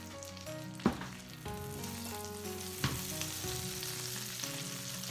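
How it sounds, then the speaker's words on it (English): Sweet potato and chickpea burger patties fry in butter in a skillet with a soft, steady sizzle. A couple of sharp knocks land as patties are placed, and light music plays underneath. "And then I'm gonna put them on my skillet with butter."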